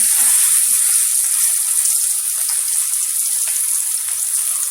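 Kebabs fry in a hot pan with a steady, bright sizzle that stays loud and even throughout, close up, with no voices over it.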